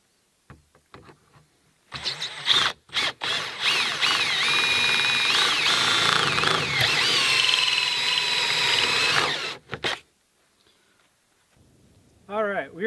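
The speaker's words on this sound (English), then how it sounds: "we'll drill from the other side and knock that foam core out." A power drill bores steadily through a metal garden shed door to knock out its foam core, a loud sustained whine lasting several seconds between brief handling knocks, then silence and a short squeaky tail.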